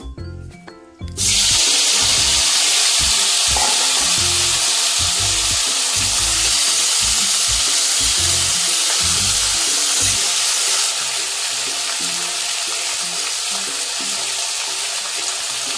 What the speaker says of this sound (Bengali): এবারে আমি বেগুনটাকে যে মাখিয়ে রেখেছিলাম এটাকে ভাজবো তেলে।